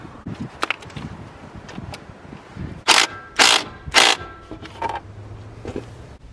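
A ground bolt being removed on a Duramax truck during an Airdog lift pump install: faint tool clicks, then three loud, close scraping or ratcheting bursts about half a second apart, followed by quieter handling noises.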